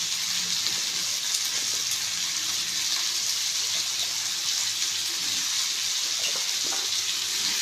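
Potatoes sizzle in hot oil in a pan for a peppery potato fry, giving a constant, close, bubbling hiss with small crackles at a steady level and no one speaking.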